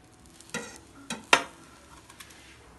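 Carrot uthappam sizzling in a pan with sesame oil poured around it; a soft steady sizzle broken by three sharp spoon or pan clinks, close and otherwise quiet.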